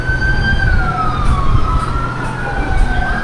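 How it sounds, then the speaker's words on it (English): Ambulance sirens approaching on the road, a loud wailing tone sweeping slowly up and down over a rumbling traffic bed, with brief sharper chirps near the end. "I hear the ambulances coming."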